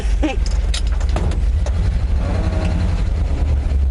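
A 1957 GMC Napco 4x4 pickup truck pulls away in a low, steeply geared first gear as the clutch is let out, its engine a steady, loud, close rumble with brief clunks near the start.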